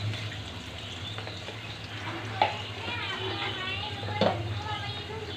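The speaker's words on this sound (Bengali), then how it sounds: "দিয়ে দিলাম আদা পেস্ট" Ginger paste dropped into a hot pan of oil while cooking rohu fish with potatoes, beans and pointed gourd: a steady soft sizzle with a couple of sharp spatters and stirring scrapes, a voice faint in the background.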